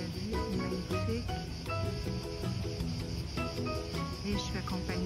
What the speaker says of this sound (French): je suis accompagnée par le son des cigales